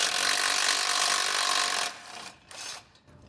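A power tool spins a 16mm head bolt out of the bumper stiffener bracket on a 2019 Jeep, a steady loud whir for almost two seconds, then stopping, followed by a brief second burst.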